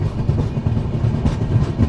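Passenger train 12791 running after leaving Nagpur Junction, a steady rumble with rhythmic clickety-clack of wheels on rails heard from inside, continuous and moderately loud.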